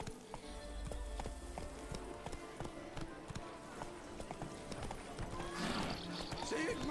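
Horse hooves galloping in the video game Witcher 3, a steady rapid clip-clop rhythm, with game sound effects and a voice speaking over it.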